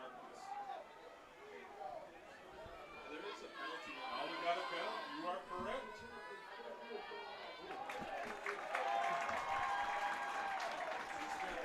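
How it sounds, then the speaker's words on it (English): Parents cheer from the stands at a high school playoff football game between Oconomowoc and Racine Case, a steady crowd roar with chatter and applause that swells louder toward the end. "So Case parents cheering."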